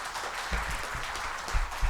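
Applause from an audience at the inaugural session of a national conference, a short stretch of soft, diffuse clapping with a few louder low thumps, heard from a distance.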